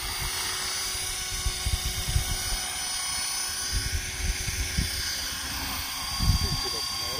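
A KDS 450SV radio-controlled model helicopter flying outdoors, a steady high-pitched whine of the rotor and motor throughout, with low gusty wind bumps and faint voices underneath.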